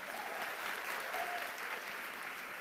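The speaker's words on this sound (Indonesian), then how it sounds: "Tepuk tangan untuk Jantra Foundation." A crowd gathered for a religious sermon gives a steady round of applause, dense clapping at moderate loudness that continues unbroken without talk over it.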